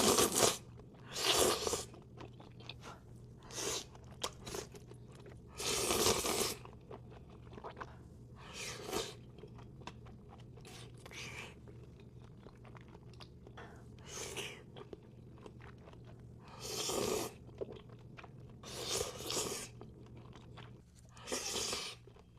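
Close crunching and chewing of spicy buldak noodles with seafood, crab legs, mussels, cheesy rice cake and dumplings, coming in repeated bursts of bites and mastication with quiet gaps between them.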